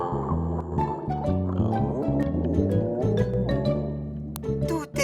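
Cartoon whale shark voiced with a deep, drawn-out moaning groan, a low wavering tonal sound sustained almost continuously, loud and close, with underwater-style animated sound effects around it.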